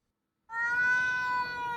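A single cat meow after a moment of silence, close and clear, drawn out for over a second with a slightly falling pitch, no voices.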